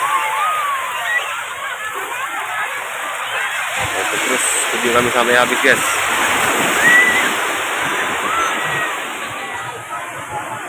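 Broad wash of surf and splashing at Krui beach on Lampung's west coast, with waves rolling in steadily while people bathe; voices and chatter run over the constant water roar.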